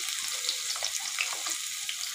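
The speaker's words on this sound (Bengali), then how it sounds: "পেঁয়াজটা একটু ভাজা হওয়া পর্যন্ত অপেক্ষা করছি" Chopped onions sizzle and crackle steadily in oil in a pan, a close, continuous frying hiss with no voices.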